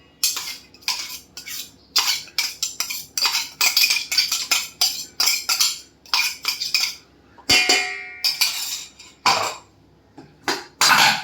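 A spoon scrapes and clinks around a bowl while sesame seeds and ground spices are mixed for cabbage vadi, in repeated short bursts of stirring with brief pauses between strokes.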